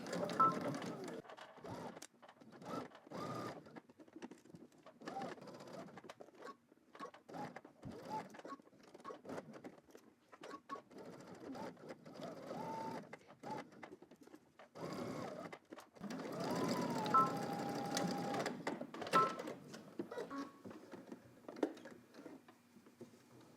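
A sewing machine back stitching a polo shirt seam, faint bursts of rapid mechanical ticking and whirring starting and stopping in short runs, with a longer stretch near the end, quiet and somewhat distant.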